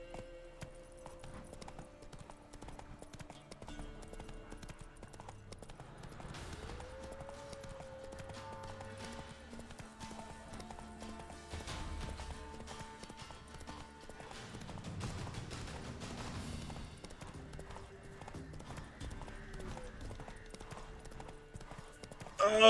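Roach the horse gallops in The Witcher 3 video game, a long, fast run of rhythmic hoof clip-clops over game music, with a short tonal sweep partway through and no clear talking over it.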